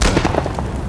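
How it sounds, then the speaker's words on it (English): A bomb blast in The Last of Us, a short, close, crackling burst with a sharp onset and rattling, debris-like pops trailing off over under a second. "The guy threw a bomb at me!"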